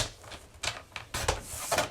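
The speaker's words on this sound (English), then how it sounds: "So I'm trimming this so that I can remove that piece." Scrap paper being trimmed with a paper trimmer, heard as a few sharp, close clacks and short slicing strokes spaced irregularly over two seconds, with no talking.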